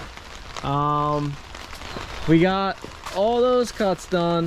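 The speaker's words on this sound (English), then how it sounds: "It's raining." Rain falls outdoors during a pool patio build, a steady soft hiss running beneath a voice, which dominates the foreground.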